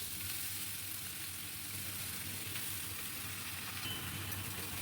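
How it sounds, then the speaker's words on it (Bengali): Chopped bottle gourd frying in mustard oil in a pan, a steady close sizzle and hiss that runs evenly throughout with no talk. "এবার ভালো করে ধোয়া কেটে রাখা লাউ আমি এতে যোগ করলাম।"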